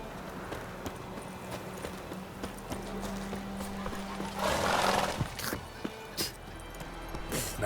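Roach, the horse in The Witcher 3, clip-clops along at a steady pace with a snort or whinny partway through, hooves moderately near over a low background hum.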